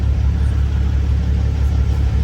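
A box truck drives past close by, a steady heavy low engine rumble holding throughout with no clear rise or fade.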